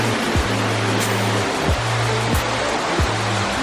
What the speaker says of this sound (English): Trying to take a video of the waterfall from a different angle over here.